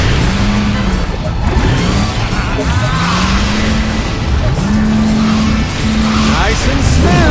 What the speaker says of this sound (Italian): Sono le altre macchine da corsa!